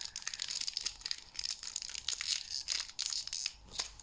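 Pokémon Evolving Skies booster pack foil being torn open by hand, with repeated crinkling and tearing bursts up close across the whole span and no talking.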